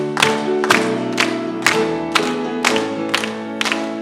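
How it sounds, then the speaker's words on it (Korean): A church congregation claps in a steady rhythm, about seven sharp beats spaced roughly half a second apart, over a sustained organ-like musical tone during a hymn of praise. "힘차게 박수 칩니다."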